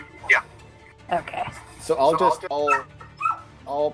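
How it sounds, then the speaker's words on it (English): A household dog gives a few short, high yips and whimpers in the background of a home Dungeons & Dragons session, the brief sounds scattered between and under steady conversation from the players. "I'm so sorry about my dog."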